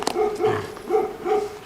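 A dog barks in a short series of about four rhythmic, moderately loud barks at close range, with some outdoor background noise.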